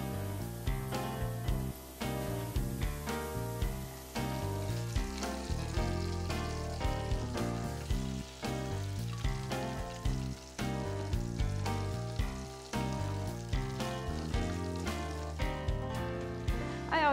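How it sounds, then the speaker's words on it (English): Whipped potato tots fry in hot oil with a continuous crackling sizzle, though the sound is partly covered by steady rhythmic music. "carefully drop them into the hot oil and cook them until they're nice and brown and crispy"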